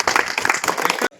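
Audience clapping at a farmers' information meeting on silk cultivation, a dense burst of many hands applauding loudly and steadily for about a second before cutting off abruptly.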